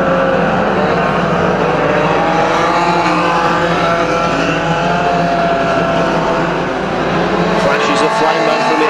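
Unlimited banger racing cars lap a track at a Halloween carnival in Kings Lynn, one engine misfiring, a dense continuous roar of several loud engines with a commentator speaking over it throughout.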